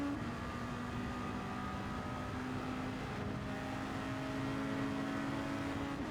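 A World Touring Car 700 race car in Gran Turismo 7 at Circuit de Spa-Francorchamps drones continuously at a steady pitch, with engine tone held through gears at moderate volume and no talk.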